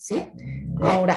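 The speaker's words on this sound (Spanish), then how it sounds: "Perdón por el ladrido" A dog barks close by in a short burst, with a person speaking over it before and after.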